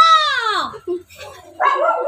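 A dog gives a few close, loud yelping barks and whines, a falling whimpering cry followed by a short break and then another sharp outburst.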